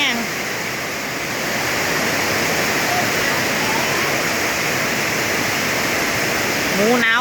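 Heavy rain pours down and water runs along a path toward a house, making a steady, loud broadband wash that continues throughout with little change.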